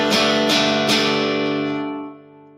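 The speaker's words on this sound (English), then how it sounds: "So clean sound from a relatively clean AC15 sounds something like this." A clean electric guitar played through a Vox AC15 amp, about two-thirds up, rings out as three picked chord strums close together. The last chord sustains and fades out.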